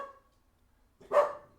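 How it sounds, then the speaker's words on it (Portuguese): A single short bark from a dog indoors, close and fairly clear, heard against near silence after a faint earlier sound. "Ó o meu cachorro."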